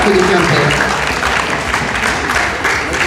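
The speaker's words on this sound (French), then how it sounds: "applaudissez-les" Applause from an audience at a Breton folk costume show in Quimper, a steady wash of clapping with a voice briefly audible early on.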